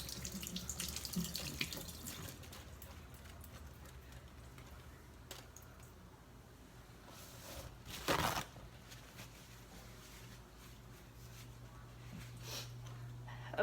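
A tap runs steadily into a sink while dyed fabric is rinsed by hand, a quiet continuous splashing with a brief louder gush midway.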